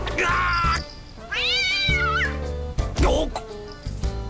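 A cat in the video game Digital Devil Saga meows loudly several times, including a drawn-out rising and falling wail, with someone talking at points and game sounds underneath.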